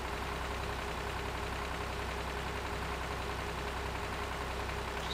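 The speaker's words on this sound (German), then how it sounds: "Das ist aber ein süßer kleiner Traktor." A small tractor idles in the farming game Landwirtschafts Simulator 2013, giving a constant, even engine drone with a low rumble that runs without a break.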